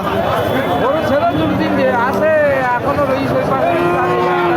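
Thin, bony cows at a busy rural cattle market give drawn-out moos amid constant crowd chatter and people talking nearby.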